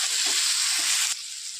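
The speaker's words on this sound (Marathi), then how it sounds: "आता टाकतो आपण एक टमाटा" A tomato dropped into a hot pan with reddened onion and garlic, bursting into a bright sizzle with a couple of soft thuds, then settling to a quieter steady fizz.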